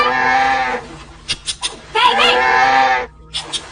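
Goats bleat loudly and close by during the rainy season, several long wavering calls with short gaps, mixed with a few shorter bleats.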